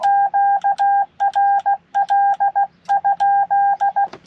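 A CW Morse code radio transmission asking whether the frequency is in use: crisp, loud tone beeps in rapid dits and dahs, grouped into short bursts with brief gaps, heard alone.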